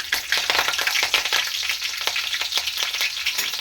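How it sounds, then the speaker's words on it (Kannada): Cumin seeds and curry leaves fry in hot oil with a steady, dense crackling sizzle, broken by sharp spattering pops and a few stirring clicks, close and fairly loud throughout with no voices. "ಅದು ಎಣ್ಣೆಲಿ ಫ್ರೈ ಆಗ್ತಿದೆ ಅಂದಂಗೆ ಕರಿಬೇವು ಹಾಕೊಳ್ಳೋಣ."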